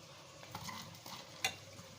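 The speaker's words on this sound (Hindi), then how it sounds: "हरा धनिया हम इसमें मिक्स करेंगे थोड़ा सा" Fresh green coriander being stirred into potato chaat in a bowl gives soft, quiet scraping and mixing sounds with a single light clink of the spoon partway through.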